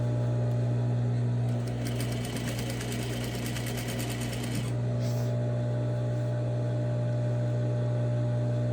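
A sewing machine runs steadily while stitching a dress neckline facing, its motor hum constant and close, with a faster, brighter burst of stitching in the middle before it settles back to a slow, even pace.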